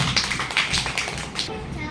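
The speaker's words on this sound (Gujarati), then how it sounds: "અરે વાહ તાળી પાડો તાળી પાડો" Hands clapping during a children's yoga day session practicing tadasana, with a run of sharp taps and claps over a loud room and children's voices.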